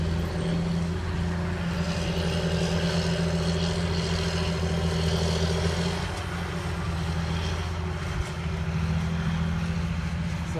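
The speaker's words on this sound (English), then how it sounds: "So the tractors are back." Pulling tractors idle and rumble at a drag racing event, a steady low engine drone with harmonic hum, heard from a distance and holding constant throughout, with no voices.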